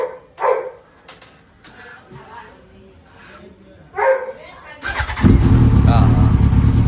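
A Yamaha R1 sport motorcycle engine bursts into a loud, sustained roar about five seconds in, after a quieter stretch of voices and scattered yelps.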